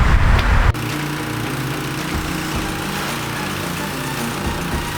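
A Ryobi 2900 pressure washer runs steadily while cleaning an outdoor basketball court, its engine drone loud and continuous after a brief louder burst at the start.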